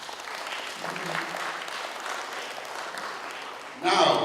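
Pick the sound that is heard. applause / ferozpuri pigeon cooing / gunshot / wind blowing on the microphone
applause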